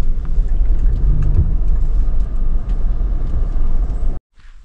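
Car driving along a road in rural Samogitia, with loud continuous low engine and tyre rumble from inside the cabin and a faint rattle, cutting out abruptly near the end.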